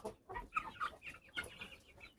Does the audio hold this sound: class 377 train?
no